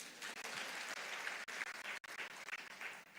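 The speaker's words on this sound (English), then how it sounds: "A round of applause." Conference audience applauding at a women's event in Africa, a steady wash of many hands clapping at moderate distance, with a brief dip partway through before the clapping resumes.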